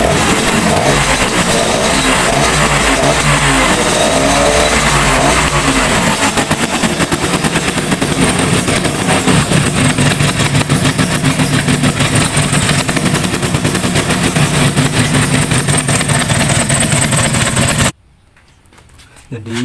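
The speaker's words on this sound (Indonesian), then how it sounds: "Kita akan hidupkan mesinnya, apakah nyembur atau tidak." A Vespa scooter engine runs loud and close after a kick start, with a rough, rapid popping idle that shifts partway through. It continues for about eighteen seconds before cutting off abruptly.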